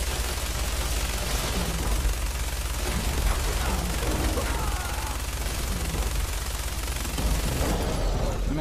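Minigun fire in the video game Fallout 4 during a Deathclaw encounter: sustained rapid rattling bursts over a low rumbling bed, loud and continuous for several seconds.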